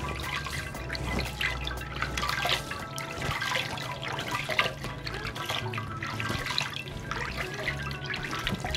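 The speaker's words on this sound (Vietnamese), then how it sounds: "Mình rửa bằng nước lạnh." Running tap water splashes and trickles steadily as cold water is scooped and rinsed over a face, the flow continuous and close with irregular drips and splashes.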